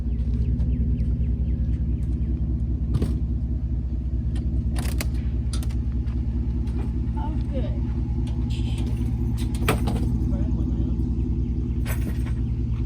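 A car engine idles steadily with the keys left inside, a constant low rumble under occasional clicks and handling noises, while a person speaks briefly nearby.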